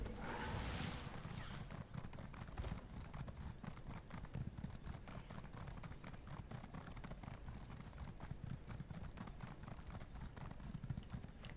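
Horse hooves clip-clopping steadily in the video game Elder Scrolls Online, a fast even rhythm of close hoofbeats running throughout with no pauses.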